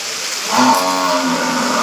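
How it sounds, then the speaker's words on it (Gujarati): A buffalo lets out a single loud, drawn-out moo close by during rain, rising then trailing off over about a second. "આ ભેંસ બિચારી રેક રેક કરે"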